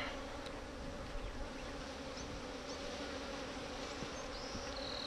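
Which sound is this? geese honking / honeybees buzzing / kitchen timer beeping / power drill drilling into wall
honeybees buzzing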